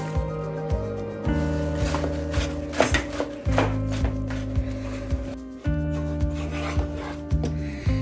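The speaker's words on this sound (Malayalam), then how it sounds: "ഇനി ഇതാ ബിസ്ക്കറ്റ് ഇട്ട് ഇളക്കുക." Crushed biscuits being stirred into a chocolate mixture for a chocolate biscuit cake make close, repeated scraping and squishing strokes over steady background music.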